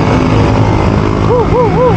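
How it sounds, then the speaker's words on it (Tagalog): Street traffic dense with motorcycles on a busy holiday road, a continuous close engine drone with a voice talking over it and rising-falling whistled or tonal sounds near the end. "Traffic eh. Dami mga motor."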